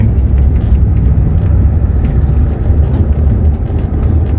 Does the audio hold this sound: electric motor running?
yes